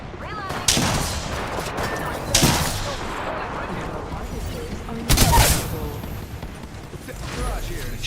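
Gunfire in a shooter video game, three sharp blasts spaced a couple of seconds apart over a busy background of game noise and rumble, with a player talking throughout.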